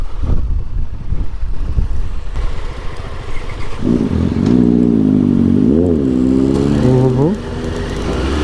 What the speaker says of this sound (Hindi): काफ़ी बढ़िया एग्जॉस्ट है, कान फाड़ने वाला।